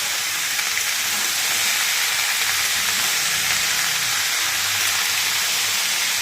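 Mixed vegetables with beetroot fry in a pan, producing a steady, loud, close hiss of sizzling oil that holds unbroken from start to finish.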